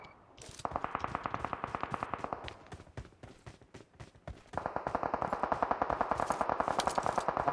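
Automatic gunfire from PUBG Mobile rattles in long rapid bursts of evenly spaced shots, with a quieter stretch of scattered shots in the middle before a second sustained volley.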